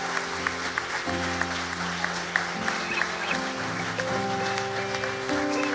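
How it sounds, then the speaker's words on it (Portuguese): A church congregation applauds in a steady, dense wash of clapping that fills the whole stretch, with organ or keyboard chords sustained underneath. "Vamos aplaudir o Senhor."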